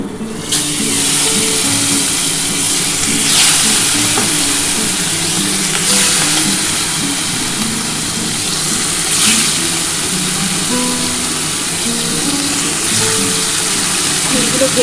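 Hilsa fish frying in oil in a wok, a loud continuous sizzle lasting the whole stretch with periodic bursts of spattering as pieces are added, close and dominant.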